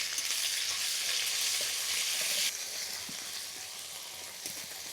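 Crushed ginger and green chillies fry in hot oil with a loud, dense, rain-like sizzle that eases slightly halfway through, close and continuous without speech.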